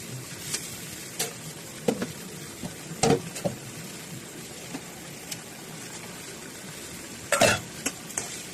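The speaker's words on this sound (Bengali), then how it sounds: "এই রান্নাটা বারবার নেড়ে চেড়ে রান্না করতে হবে, মাখামাখি হতে হবে শাকটা।" Malabar spinach is stirred in a pan for a hilsa fish head dish: repeated scraping, clattering spoon strokes at irregular intervals over a soft, low sizzle, with no talking.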